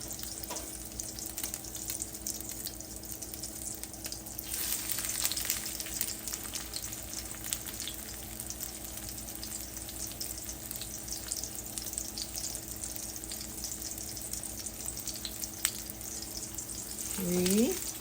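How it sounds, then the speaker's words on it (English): Chicken patties frying in a pan of grease, a steady close sizzle with crackling continuing without break throughout, with no talking. "pat them into little patties. I don't know, maybe about the size of a small hamburger, and put it in the grease."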